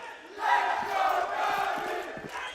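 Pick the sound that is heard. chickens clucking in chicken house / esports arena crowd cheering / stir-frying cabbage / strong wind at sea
esports arena crowd cheering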